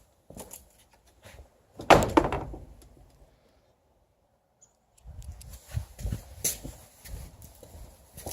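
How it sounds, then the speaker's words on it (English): A door swings shut with one solid thud, followed by a soft rattle and then quieter scuffing and handling noises. "that door actually shuts pretty nicely"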